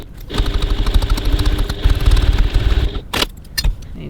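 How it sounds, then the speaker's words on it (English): A sewing machine topstitches a handbag seam at a 3.2 stitch length, a rapid rattling run of needle strokes for about three seconds, then a few short back-tacking bursts. "I'm just going to stitch a little bit back from the edge"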